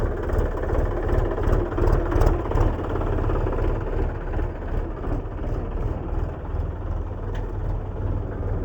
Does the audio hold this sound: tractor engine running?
yes